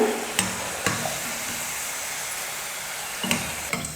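Potato pieces deep-frying in hot oil for a potato 65 snack, a continuous sizzling hiss punctuated by a few sharp clinks of a utensil against the pan.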